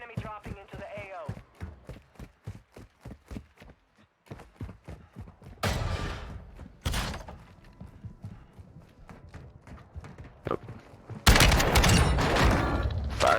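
Shotgun gunfire in a video game, with rapid bursts of gunshots and clattering blasts mixed with louder explosive bursts, while a voice talks over the action.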